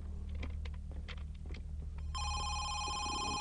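A telephone rings in the Home Sweet Home horror video game, its steady electronic trill starting partway through and continuing to the end over a low ambient hum and a few earlier clicks and footstep-like knocks.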